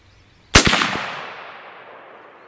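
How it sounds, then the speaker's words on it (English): A T/C Compass rifle in .300 Win Mag fires a single loud, sharp shot outdoors, followed by a long echoing rumble that fades slowly over two seconds. "I'm gonna shoot 2 more with that same hold there."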